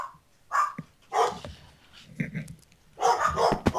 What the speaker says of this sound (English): And the celebratory dog barking.